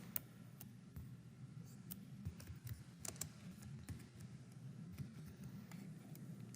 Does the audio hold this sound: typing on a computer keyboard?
yes